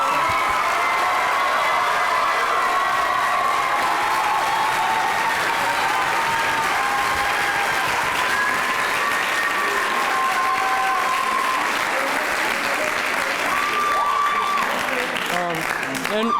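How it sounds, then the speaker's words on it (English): Sustained audience applause with cheering voices at a high school cross country rally, loud and steady throughout, with shouts rising over the clapping near the end. "another round of applause for Emma"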